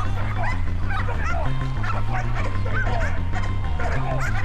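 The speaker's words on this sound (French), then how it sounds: "Des aspirants commandos, lâchés dans l'arène des chiens dressés pour attaquer" Attack-trained dogs bark and yelp loudly in an arena, with steady rapid barking and whimpers close by over a low hum.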